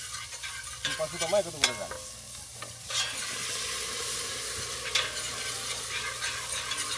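Coconut milk being stirred into rice for Thai-style coconut rice, a close scraping and sloshing in the pot over a low sizzling hiss, with a brief voice speaking partway through.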